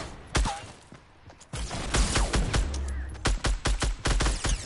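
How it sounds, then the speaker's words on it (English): Rapid explosive blasts and gunfire in the video game Fortnite, with sharp repeated reports in clusters and bursts, some thudding impacts, loud and close. "Oh, they're shooting rockets at us."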